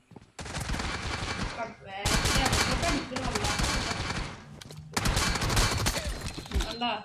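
Gunfire in the Free Fire video game's gun game mode comes in dense, loud automatic bursts separated by brief pauses, with sharp cracks and rattling shots filling most of the clip.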